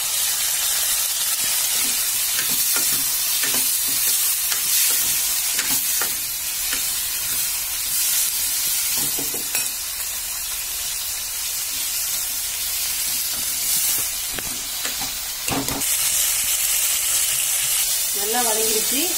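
Curry leaves added to oil for a vanjaram fish curry crackle in a loud, continuous sizzle and hiss, with intermittent stirring scrapes against the pan throughout.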